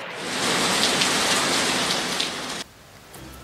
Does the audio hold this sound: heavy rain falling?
yes